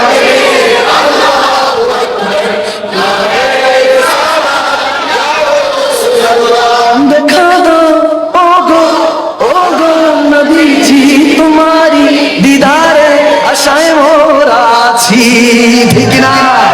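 A crowd chants the takbir in unison, loud and sustained, with voices rising together in repeated rhythmic calls at a religious gathering.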